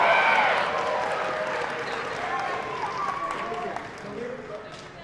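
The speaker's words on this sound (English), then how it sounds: "Please give a round of applause to our helpers here for doing a fabulous job." A crowd at a cosplay convention halftime show applauds and cheers its helpers, with loud clapping and voices that gradually fade and thin out, while talking continues underneath.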